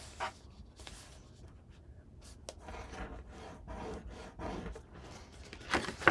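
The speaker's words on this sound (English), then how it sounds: "this one you need to burnish on all the score lines before we fold it into shape" A burnishing tool rubs along score lines on paper for a handmade box and mini albums, giving soft, close scratchy strokes in a steady back-and-forth rhythm that grow slightly louder toward the end.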